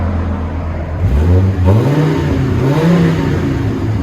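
A Viper truck engine fitted with a quieter exhaust idles with a low rumble, then revs up twice in rising, falling sweeps, loud and close with no talking.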